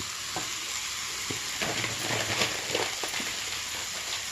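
Tomatoes frying in a pan while wheat rava pulao with peas is cooked, a steady close sizzle with occasional stirring scrapes and small crackles, no voices.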